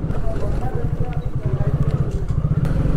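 A motorcycle sets off on a highway ride in Kashmir, its engine putting out a close, steady low rumble with rapid rhythmic pulses throughout.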